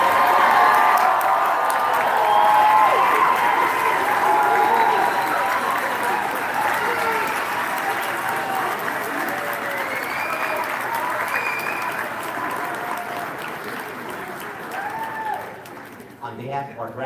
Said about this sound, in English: Again, a round of applause for our graduates of 2018.